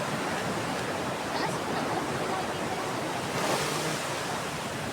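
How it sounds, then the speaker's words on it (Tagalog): Strong ocean waves crash and roar at dawn on a beach at Patar, Bolinao, Pangasinan, a loud continuous wash of surf with a slight swell near the middle, mixed with wind noise on the microphone and no talk. "Lagas-las ng malakas na alon ng tubig."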